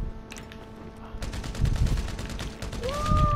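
Rapid gunshots in GTA 5 Online, a close burst of repeated automatic fire over game background noise, with a faint tone rising near the end.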